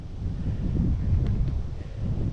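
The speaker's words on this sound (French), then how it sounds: "vent du sud, ça rafale un peu" Gusty south wind buffets the microphone during an electric mountain bike ride near Lesaka, a loud, continuous low rumble with rising and falling gusts and no talking.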